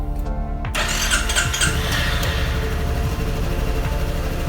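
A Honda Forza 250 scooter engine starts up after an oil change, with a short cranking whir that catches and settles into a steady, close idle.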